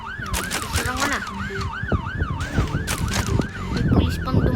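A police-style siren wails in rapid rising and falling sweeps inside a video game, loud and close, while engine rumble and scattered impact sounds play beneath it.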